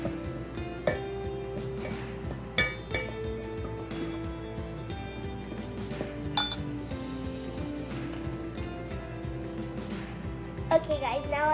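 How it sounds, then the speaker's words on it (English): Cupcake ingredients are stirred together in a bowl, with a spoon or whisk clinking and tapping against the sides in irregular bursts over a steady low background. "now I'll mix them together"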